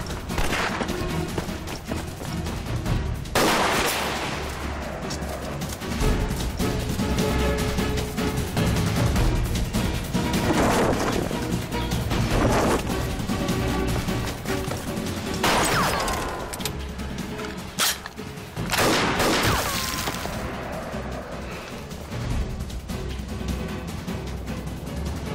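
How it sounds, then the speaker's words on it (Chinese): Gunfire in a shootout scene from a Republican-era Chinese crime film. It gives loud, sharp bursts of repeated shots and crashes across the whole stretch, with a dense, busy background and no clear talk. "快，有枪声！"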